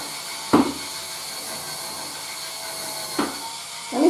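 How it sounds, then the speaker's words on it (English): A wireless electric scrubber for bathroom and kitchen cleaning runs with a low, steady motor hum, broken by a few sharp knocks and scrapes as it is pressed against a surface. "Just turn this on. See? Just scrubbing. It's got some power to it."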